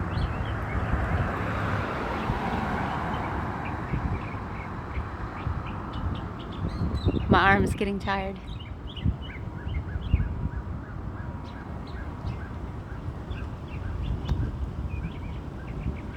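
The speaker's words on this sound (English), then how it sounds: "I love listening to this bird." A songbird sings in a Nashville neighborhood, a bright trilling phrase rising clearly over steady city background noise, followed by scattered short chirps, with a brief spoken remark.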